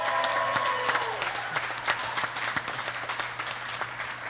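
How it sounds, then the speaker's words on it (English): Steady applause from a moderate-sized crowd at a labor history talk, with scattered individual claps audible over a faint background hum. "Can we give them a round of applause?"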